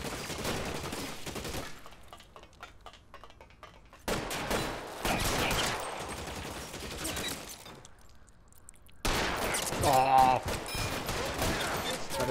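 Bursts of gunfire from the video game L.A. Noire come in rapid volleys broken by short gaps, with game music and effects underneath.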